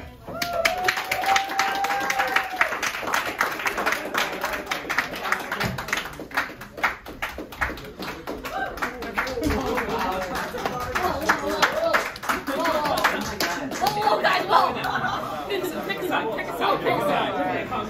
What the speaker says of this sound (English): Let's give a round of applause to the players today